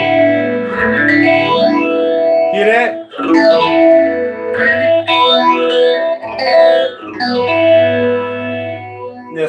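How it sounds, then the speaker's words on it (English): Electric guitar played through a Source Audio Lunar Phaser pedal, chords swirling with a sweeping, whooshing phase modulation that rises and falls continuously; a voice briefly speaks over the close, loud playing. "We're going to play around with the lunar phaser."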